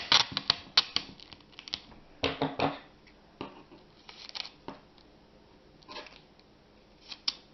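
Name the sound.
adhesive tape being pulled from the roll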